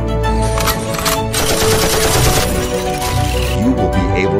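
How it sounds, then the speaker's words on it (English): A T9 robot fires its toy gun in sustained rapid bursts, crackling and rattling loudly and continuously over a background of tones. "Hey, T9, open fire!"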